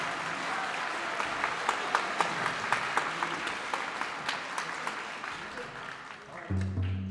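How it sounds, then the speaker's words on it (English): Steady applause from a sizeable crowd at a middle school honor band concert, with scattered sharp claps standing out, fading slightly before a low hum near the end. "please give him a big round of applause"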